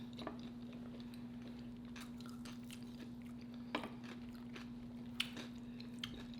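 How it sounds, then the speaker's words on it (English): Someone chews crunchy celery in homemade barbecue food, giving scattered crisp bites and crunches close to the mic over a steady low hum, with no talking. "I like that celery crunch."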